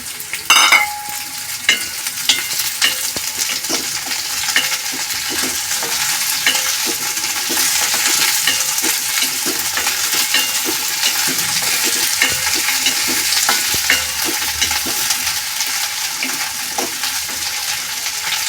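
Cauliflower fries loudly in a pan for vegetable pulao, with a dense, continuous sizzle and a steady rhythm of stirring close by.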